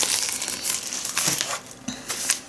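A plastic packet of coconut flour or similar baking ingredient is handled, with sharp crinkling and crumpling bursts, fairly close and loud, separated by brief quieter gaps.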